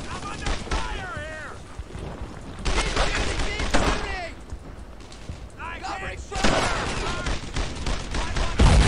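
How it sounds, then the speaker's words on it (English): Rifle gunfire in a battle from the video game Brothers in Arms: Earned in Blood, with dense, repeated shots and blasts that swell in bursts, while voices shout over the fighting. "I'm under fire here!"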